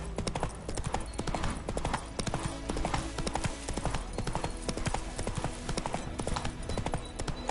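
A horse named Roach gallops in a video game, its hooves beating a fast, steady clip-clop rhythm close and loud throughout, with no other clear sounds.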